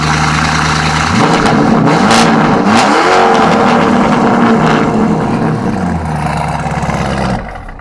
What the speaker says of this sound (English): none of that is as impeccable as the sound that this car makes